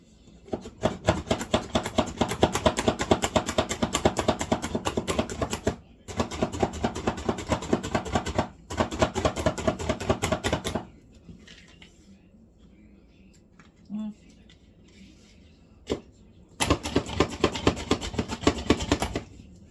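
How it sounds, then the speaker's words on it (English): A knife chops toasted pecans on a cutting board in quick, rapid rhythmic bursts, with several pauses between the runs of chopping. The sound is close and crisp. "I'm just going to chop a bunch of them up"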